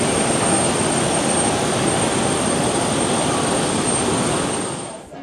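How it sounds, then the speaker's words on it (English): A Qantas jet's engines roar steadily and loudly at Brisbane Airport, a dense broadband rush with a high whine on top that holds for about five seconds before tapering off at the end. "there's the Qantas plane that's just brought us here to Brisbane."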